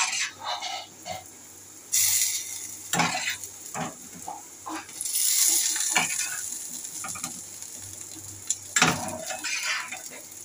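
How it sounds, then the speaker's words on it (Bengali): Fritters (bora) frying in a pan, a soft sizzle punctuated by several sharp scraping and clattering stirs of a utensil, loud and close, with no talk. "বড়াগুলো ভাজা হয়ে গেলে"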